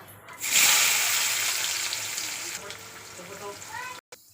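Onion dropped into hot oil with mustard seeds, setting off a loud, hissing sizzle that starts abruptly and then slowly tapers off, with someone talking over it.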